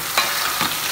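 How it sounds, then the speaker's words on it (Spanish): Angel hair pasta with shrimp is stirred and fried in a pan, giving a steady close sizzle with two brief scraping swishes of the stir. "Después de menearlo, esto es como si lo estuvieran friendo, pero sin mucha grasa"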